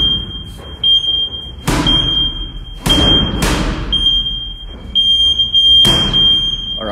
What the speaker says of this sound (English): I'm trying to wait for the buzzer to go for me.